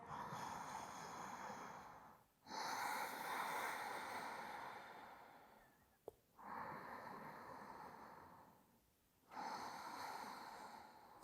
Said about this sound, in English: We'll take 2 full breaths here.